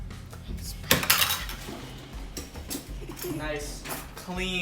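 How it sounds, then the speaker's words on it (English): A spoon scrapes scales off a freshly caught pompano in quick rough strokes and clicks, close by, while people talk over it. "get this spoon and spoon the scales off"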